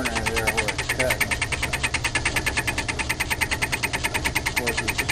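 A Logan lathe with a milling attachment cuts metal while fed by hand, giving a steady, loud, rapid rhythmic chatter and machine hum throughout with no pauses.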